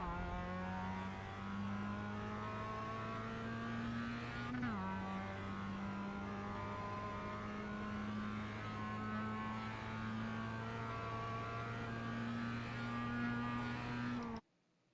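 Mazda MX-5 engine droning steadily in iRacing at Laguna Seca, a sustained close in-car note with a brief downshift dip partway through, then cutting off at the end.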